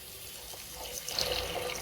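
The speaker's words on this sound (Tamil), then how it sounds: "நம்ம என்ன செய்யணும் அப்படின்னா கொஞ்சமா தண்ணி ஆட் பண்ண போறோம்" A little water is poured into masala frying in oil for Dindigul-style chicken biryani made in a cooker, a soft, brief splashing pour that swells near the end over a faint hiss, with no talk.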